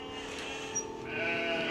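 Old ewes bleating on a farm, a faint drawn-out bleat partly masked by steady background noise.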